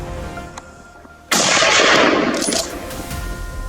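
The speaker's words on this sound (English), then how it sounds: "quietly raised his rifle, tracking every step it took and squeezed the trigger" A single loud rifle shot fired at a wild boar, a sharp sudden blast followed by a rolling, sustained boom that decays slowly, heard alone over faint background ambience.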